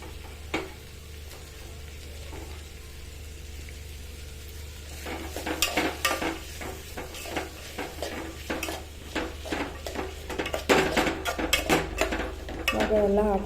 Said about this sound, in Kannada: ಇವಾಗ ಎಲ್ಲ ಹಾಕ್ಕೊಂಡು ಚೆನ್ನಾಗಿ ಕಲಸೋಣ ಸ್ವಲ್ಪ, ಯಾಕಂದರೆ ಅವು ಚೆನ್ನಾಗಿ ಫ್ರೈ ಆಗಬೇಕು